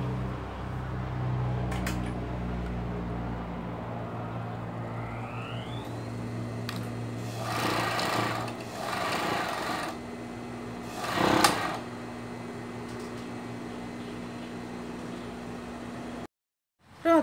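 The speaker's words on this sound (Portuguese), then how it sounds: "Vamos começar passando na overlock só um lado do ombro aqui" Overlock serger stitching one shoulder seam of an adult Wednesday Addams costume, a steady mechanical whir that runs for about sixteen seconds and then cuts off abruptly.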